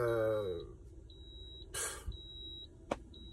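A high electronic beep repeats at a steady interval inside a truck, each tone about half a second long, with a brief rustling noise and a sharp click between beeps.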